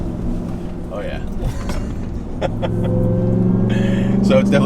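A 2021 Ram 1500 TRX with a supercharged Hemi V8 and loud AWE exhaust rumbles steadily at close range while driving, building slightly in intensity, with a voice talking over the engine.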